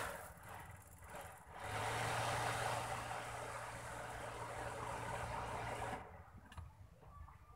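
A 1983 Daihatsu Charade's old engine cranks and catches, then runs at a steady idle hum for several seconds before cutting off, fairly quiet and close with no talking.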